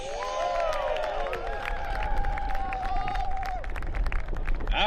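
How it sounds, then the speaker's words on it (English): Steady crowd applause and cheering for a senior lacrosse player, number 15, at a Santa Clara versus SSU game, with lively chatter and a few raised voices throughout. "Please give a round of applause for number 15,"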